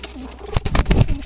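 Jalali pigeons kept in a basket coo in low, soft rolling calls, a few bursts close by over a faint background murmur.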